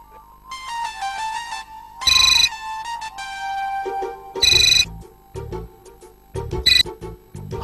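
A telephone ringtone playing a melodic electronic tune, with repeated bursts of bright ringing tones in a cycling pattern, loud and close with no talk.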